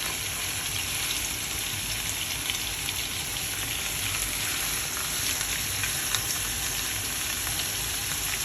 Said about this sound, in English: And this is cooking on medium-high heat. So I want to get a nice sear on each side.